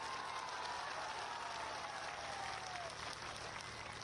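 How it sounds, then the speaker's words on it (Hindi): A large crowd at an outdoor political rally applauds steadily, a dense wash of clapping that holds at full strength from start to finish with a faint voice underneath. "यह सच हो तो ताली बजाइएगा"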